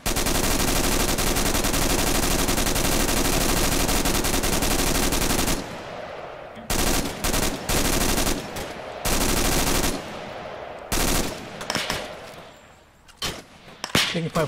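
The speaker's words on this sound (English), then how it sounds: "Taking fire from southeast, I think." Loud, sustained automatic gunfire roars for several seconds, then breaks into short, sharp bursts and single shots separated by brief lulls.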